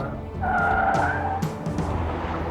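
A Lincoln LS cornering hard around pylons, its tyres letting out a loud sustained squeal for about a second over the car's engine rumble, then fading back to road and engine noise.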